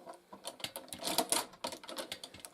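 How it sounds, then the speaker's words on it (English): Hand-crank Tippmann Boss sewing machine stitching, giving a rapid series of sharp mechanical clacks and ticks in an irregular rhythm, close and fairly quiet, with no talking. "This is a Tipman Boss, they call it. It's hand crank. You pull a crank down there for every stitch."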